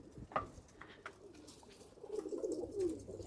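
Pigeons kept as racing flyers cooing near a loft trapdoor, with several soft, throaty coos rising and falling over a quiet background and no talking.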